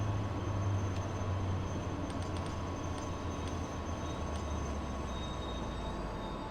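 A train in the Train Sim World game brakes on a mountain railway between Chemnitz and Dresden, with a steady loud rumble and hiss of rolling stock and faint wheel squeals, without talk.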